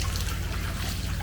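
Hot water runs steadily from the tap of a grubby outdoor sink at a building site welfare unit, a continuous close splashing trickle with a low rumbling hiss and no voices.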